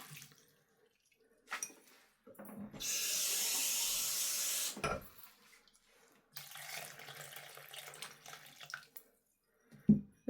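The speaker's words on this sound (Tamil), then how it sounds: "தண்ணி விடுறேன்" Water is poured into a cooking pot for a Jaffna-style anchovy coconut-milk curry, a steady close pour lasting about two seconds between faint clinks and kitchen handling noises.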